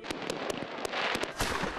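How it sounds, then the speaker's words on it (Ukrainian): Fireworks burst over the Dnipro in Kyiv during an Epiphany water blessing, a rapid run of sharp, crackling pops and bangs, close and loud, heard alone. "Тим часом воду святять вже в Дніпрі під спалахи салютів."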